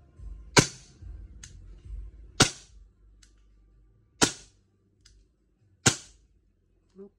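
Repaired gas airsoft gun fires four sharp, separate pops spaced nearly two seconds apart, each close and crisp against a quiet background, with faint softer clicks between shots.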